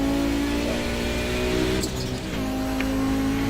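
An Audi 90 GTO race car in a sim racing game at Mid Ohio, engine pulling hard under acceleration with a sustained rising tone and a brief shift, loud and continuous.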